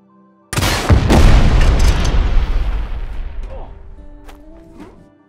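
An RPG rocket launcher in Fortnite fires and explodes with a single loud, sudden blast, followed by a long rumbling decay lasting several seconds and a few faint game sounds afterward.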